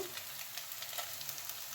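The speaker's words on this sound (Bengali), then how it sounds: "এই যে পেঁয়াজগুলো এখন ভেজে নেব" Quiet, steady sizzling of onions frying in hot oil, a soft continuous crackle with small pops.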